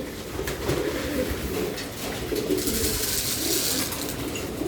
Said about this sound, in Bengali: এগুলো সব নর কবুতর আর সব রেস করা।